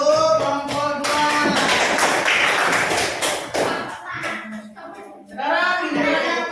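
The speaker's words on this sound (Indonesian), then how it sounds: "Oke, tepuk tangan untuk kelompok 2." Classroom clapping for a student group during an Indonesian elementary lesson, a loud burst of many small hands in the middle, with children's voices and a teacher talking before and after it.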